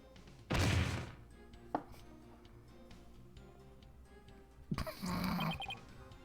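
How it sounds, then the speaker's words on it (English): Fresh soba dough made from buckwheat being chopped in the Phoenix Wright: Ace Attorney - Spirit of Justice game, heard as a loud burst of rapid cutting, a single sharp knock, then another short flurry of chops near the end. "cut the dough fresh"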